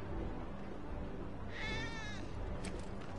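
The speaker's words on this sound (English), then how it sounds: "Olha o gato." A cat meows once in the Final Fantasy VII Remake game, a clear drawn-out wavering call that rises over a steady background of game ambience.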